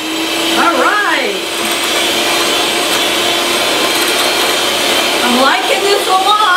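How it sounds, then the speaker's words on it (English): A Cusinaid 5-speed electric hand mixer runs at high speed, giving a steady, loud motor whir and whine that holds throughout, with a voice briefly calling out over it twice. "Pretty powerful for a hand mixer."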